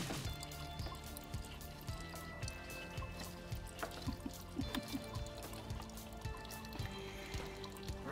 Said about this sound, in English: we got the oil draining